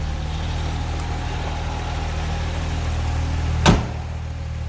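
A 1970 Jaguar XKE 2+2 engine idling, heard from the rear, a steady low, even rumble with a single brief bump partway through.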